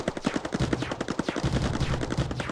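Units in the Mindustry video game fire rapid bursts, a dense rattling stream of quick gunshot pops that runs for a couple of seconds, loud and close with no talking over it.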